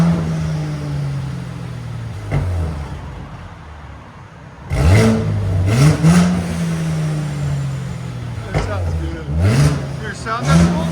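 A 2017 Mercedes C43 3.0L twin turbo V6 with downpipes, Wesgate cat-back exhaust and blow-off valves idles, then revs in several sharp rising blips, close and loud, with people talking around it.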